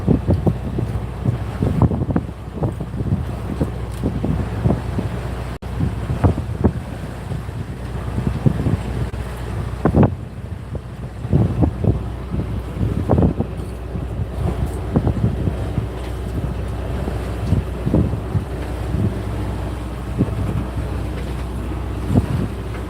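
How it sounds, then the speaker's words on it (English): A sailboat motor sailing off Fiji toward a new anchorage, with steady wind rush over the microphone, a low engine drone, and water splashing against the hull throughout. "Motor sailing to a new Anchorage."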